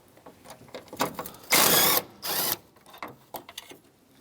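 A power tool whirs in two short bursts, about half a second each, backing out 10mm bolts on a 2007–2013 Mitsubishi Outlander during radiator replacement. Each burst is close and loud, with soft clicks and handling noises between them.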